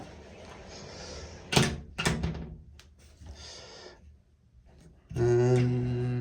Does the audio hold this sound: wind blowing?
no